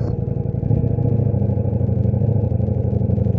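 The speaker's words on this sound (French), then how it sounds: "Et dès qu'on accélère, on entend le bruit qui change. Et là, on reconnaît vraiment son moteur V4." A 2023 Ducati Diavel V4 motorcycle engine revs up with a steady, loud low rumble that thickens as it accelerates, close by.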